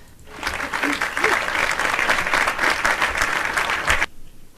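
Loud burst of applause from a crowd, rising quickly, holding steady for several seconds, then cutting off abruptly.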